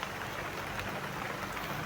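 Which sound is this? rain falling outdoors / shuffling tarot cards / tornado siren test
rain falling outdoors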